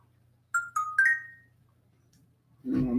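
A phone ringtone plays a short electronic melody of three or four bright chiming tones, moderately loud and close, with no talking; a voice begins right at the end.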